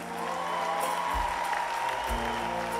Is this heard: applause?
yes